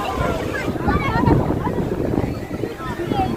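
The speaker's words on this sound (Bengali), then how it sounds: "বিশাল হাওয়া দিচ্ছে, বিশাল হাওয়া। কত জোরে, পুরো দমকার মনে হয়।" Strong gusty wind buffets the microphone at the seashore of Digha beach, a continuous loud roaring rush with surging gusts, rough sea faintly beneath, and a voice talking through it.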